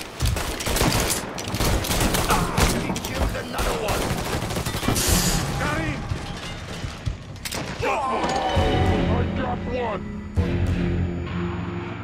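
Dense gunfire from the video game Mafia III, rapid bursts and heavy booms piling up continuously with thuds and mechanical clatter, loud and close, while voices shout over the shooting.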